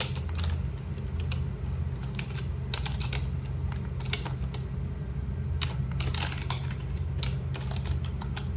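Close, steady typing on a computer keyboard as program code is entered for a computer science practical, with dense clicks and occasional louder key strikes throughout and no talking.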